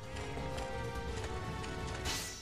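Horse hooves clip-clop steadily and close in the Berserk video game, a continuous rhythmic trotting beneath a dense layer of game background sound.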